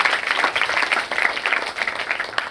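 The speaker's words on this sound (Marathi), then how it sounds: "पुन्हा एकदा आपण सर्वांनी एकमेकांना टाळ्या वाजवून प्रोत्साहन देऊया" An audience at a school program event applauds the participating schools, with steady, moderately loud clapping from a crowd, a little uneven in intensity but continuous from start to end.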